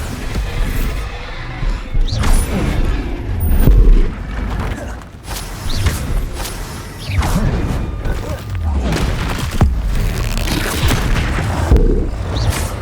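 The Bombarda blasting spell goes off again and again in the video game Hogwarts Legacy, mixed with other combat spells, making a run of loud booming explosions and crashing thuds with brief gaps between them.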